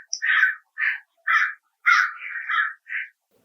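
A crow caws loudly and close by, about seven harsh calls in an uneven series with brief gaps, on a rainy day and with no other sound around it.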